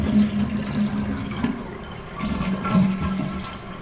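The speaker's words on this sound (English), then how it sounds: "Now we're going to flush it to see if it operates." A repaired toilet flushes nearby, a steady rushing swirl of water that surges and eases over a few seconds as the bowl drains and the tank begins refilling.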